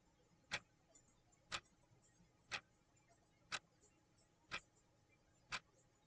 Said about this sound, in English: All I hear are the clock hands.